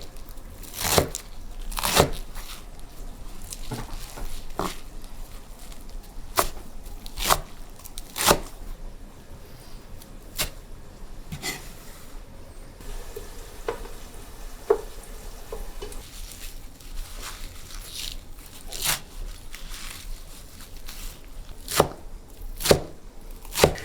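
Fresh herbs for Persian ash reshteh chopped by hand with a knife on a board, sharp close thuds coming in irregular bursts and runs over about twenty-four seconds, with quieter gaps between.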